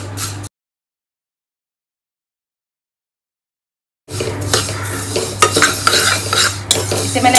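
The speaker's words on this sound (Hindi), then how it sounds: "ये सेवई को थोड़ा सा हम ऐसे ही भून लेते हैं, कढ़ाई में गरम कर लेते हैं" Already-roasted vermicelli (sevai) being stirred and warmed in a wok, with a spoon scraping and clinking against the pan over a faint sizzle, broken by a few seconds of silence before the stirring resumes.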